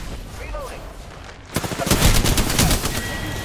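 Rapid video game gunfire starts suddenly after a quiet moment with faint voices, then continues as dense bursts of automatic shots, loud and close.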